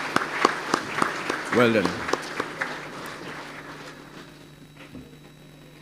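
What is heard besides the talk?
audience applause at graduation ceremony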